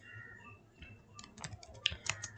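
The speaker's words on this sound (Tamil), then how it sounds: "நம்ம ரெண்டுத்துக்கும் காமனாக ஒரே கேள்வி தான் டைப் பண்ண போகிறோம்" Computer keyboard typing while entering a question into a chatbot, quiet at first then a burst of close, rapid key clicks in the second half, with no talking.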